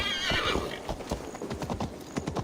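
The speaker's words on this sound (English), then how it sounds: "Stop that horse!" Horse hooves gallop in a quick, steady clip-clop rhythm in the video game Assassin's Creed Valhalla, loud and close, with a whinny near the start.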